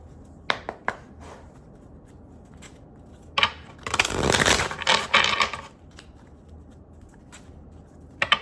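Tarot cards are handled and shuffled close by: a few sharp snaps and flicks, then a longer riffling burst, followed by more scattered card taps.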